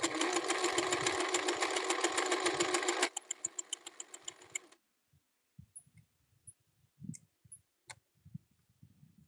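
Sewing machine stitching denim shorts, running in a loud, steady rapid burst that slows and softens before stopping, followed by scattered faint clicks and handling noises.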